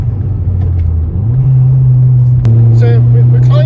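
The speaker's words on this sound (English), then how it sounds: "You can see that the engine is really pulling very strongly." A Ford Fiesta ST180 1.6 engine pulls uphill on a wet road with standing water. A loud, steady in-cabin drone climbs in pitch and then holds, and a voice begins talking over it partway through.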